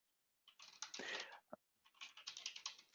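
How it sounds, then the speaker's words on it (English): Quick bursts of typing on a computer keyboard, entering text into a chat box, arrive as close, crisp clusters of key clicks separated by short pauses in an otherwise quiet room. "I am just typing it into the chat box"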